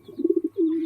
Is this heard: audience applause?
no